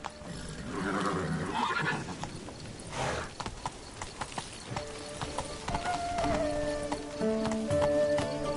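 Roach the horse gallops in The Witcher 3: Blood and Wine, with rapid rhythmic hoofbeats, a whinny, and tonal game sounds that swell toward the end. No voices are heard.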